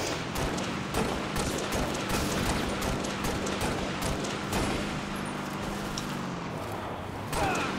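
Sustained gunfire and combat noise in the video game Halo Reach during a Warthog mission, a continuous dense clatter of shots with repeated sharp bursts throughout.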